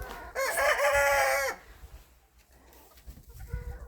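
A Cochin chicken in a yard gives one loud, close crow lasting about a second, followed by quieter, scattered clucks and rustling.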